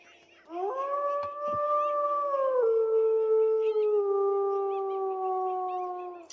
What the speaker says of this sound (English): the howling is gonna have a lot more importance